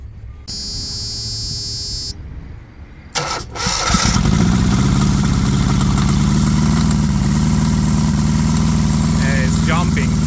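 A Perkins diesel APU cranks and fires up with a buzzer sounding beforehand, then settles into a loud, steady running drone that drives a compressor, with a voice talking briefly over it.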